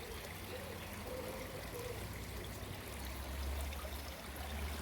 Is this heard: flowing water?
yes